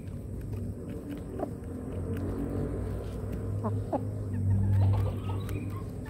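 Bangkok chickens, including a kalang-type rooster, cluck softly in a farmyard, a few brief calls scattered over a low steady outdoor rumble.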